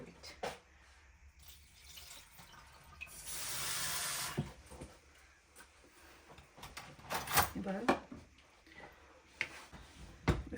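Water running and splashing out as soaked rice, red lentils and mung dal are drained and rinsed, a loud rushing burst in the middle with scattered clinks and faint voices around it.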